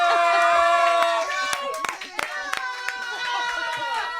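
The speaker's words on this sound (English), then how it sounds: "a round of applause for Anne-Marie Duff" A television studio audience claps for actress Anne-Marie Duff, with scattered sharp claps under strong tonal music and raised voices that dominate the moment.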